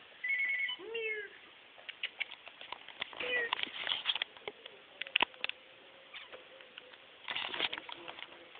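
A cat meows near the start as a pet rabbit pesters it indoors, followed by scattered thumps, scuffles and short bird-like chirps at moderate distance.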